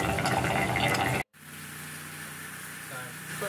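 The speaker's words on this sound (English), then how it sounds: "Still making that gurgling sound, that like there's not enough. Yeah, it's kind of pulsing and bubbling." Water gurgles and bubbles through a pipe in a cargo trailer conversion, pulsing in its flow, cut by a brief silence, then continuing more steadily and quietly.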